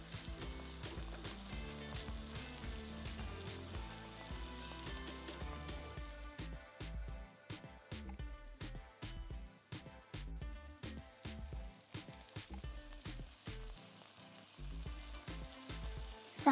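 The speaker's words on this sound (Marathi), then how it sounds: "तेल थोडंसं गरम होऊन देऊया." Oil heats in a pan for a spring onion greens bhaji, giving a soft, continuous crackling sizzle at low level throughout.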